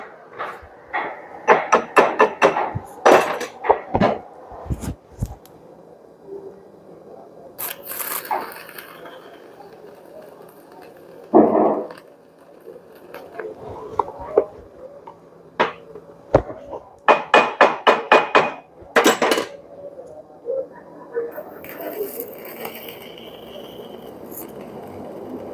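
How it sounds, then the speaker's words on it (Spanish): A hammer strikes the front axle king pin of a Nissan MT3000 truck in bursts of rapid metallic blows, separated by quieter stretches of workshop shuffling and a few isolated louder hits. "Martillo."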